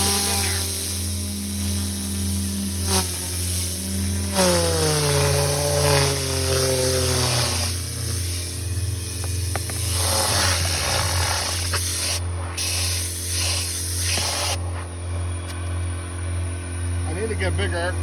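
A Tornador compressed-air cleaning gun blows sand out, a loud, steady hissing blast over a constant motor-like drone, with pitch shifts and brief gaps as air pressure changes, under occasional talk.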